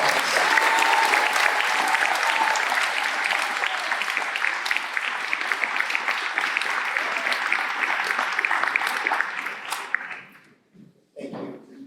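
Loud, steady applause from a large audience at a school district Class Day ceremony for seniors, continuing for about ten seconds before fading out into quiet and a few stray claps.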